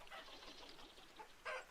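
Hens and a rooster cluck softly in a farm scene from the video game Vintage Story, a few faint, brief calls ending in one louder squawk.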